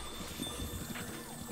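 Horse hooves pound in a fast gallop in The Legend of Zelda: Breath of the Wild, a quiet, muffled rhythmic clatter blended into steady game background sound over a short stretch.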